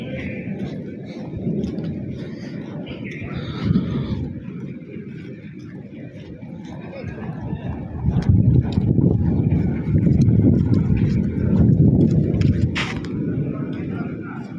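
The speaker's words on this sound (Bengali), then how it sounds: "দেখুন বাতাস বইতেছে" Wind blowing steadily outdoors at dawn near a new road under construction after early rain, a broad low roar that swells louder midway through, with talk faintly underneath.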